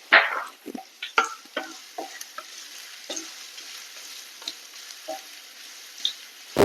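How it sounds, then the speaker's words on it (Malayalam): Ginger and garlic frying in a pan while being stirred, a soft sizzle under a series of distinct spoon scrapes and clacks at an irregular rhythm, close and alone. "അതുവരെ നമുക്കിതൊന്ന് നന്നായിട്ടൊന്ന് ഇളക്കി കൊടുക്കാം"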